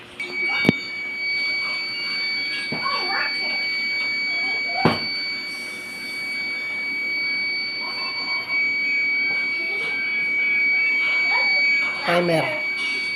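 An electronic kitchen timer buzzer goes off with a steady high tone running throughout, while people talk nearby and short clatters sound in the background.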